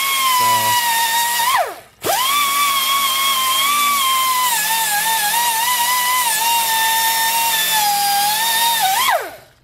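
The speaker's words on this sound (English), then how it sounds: "This is a 3M bristle disc." 3M bristle disc on a high-speed power tool stripping gasket material from an intake mounting surface on a Devair 447 engine, whining loudly and steadily, winding down briefly once and restarting before spinning down again, with no voices.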